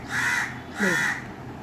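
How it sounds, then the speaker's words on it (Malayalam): Two loud, harsh crow caws, one after the other, close by with a short pause between them. "കാക്കയുടെ ശബ്ദം കേട്ടത് നിങ്ങൾ"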